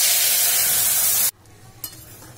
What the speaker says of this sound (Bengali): ফোড়নটা কয়েক সেকেন্ড ভাজা ভাজা করে নেব।